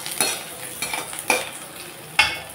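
Onion and dried red chilli hitting hot oil for a lentil tempering, a faint steady sizzle with three or four sharp metallic scrapes and clinks of a spoon against the pan, close up.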